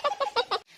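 A chicken in a garden gives four quick, close clucks in an even rhythm, followed by a short quiet moment.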